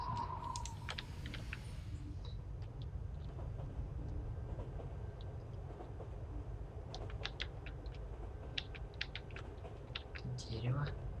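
A train passes in the video game Mind Path to Thalamus, giving a steady, continuous low rumble throughout, with scattered light clicks on top.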